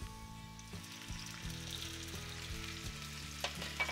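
Tender onion cooks in a pan as brandy is poured in, a soft, steady sizzle under a low background hum, with a couple of small clinks near the end and no talking.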